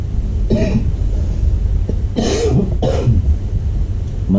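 A sick adult coughs two or three times in a close indoor room, each cough short and harsh, with quiet pauses between them and no speech.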